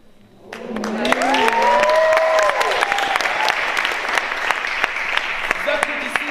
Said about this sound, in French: Vous applaudissez